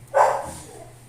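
A dog gives a single short, close yelping cry that quickly tails off into a faint whimper, heard alone against a low background hum.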